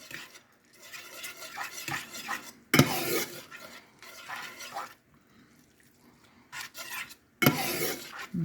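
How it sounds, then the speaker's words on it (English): Sugar and mustard mixture stirred in a pan, with intermittent scraping and clinking of a utensil against the metal, some sharp louder knocks, and quiet pauses between bursts of stirring. "I'm just going to cook this around, get everything mixed in, get the sugar good and dissolved, the mustard mixed in."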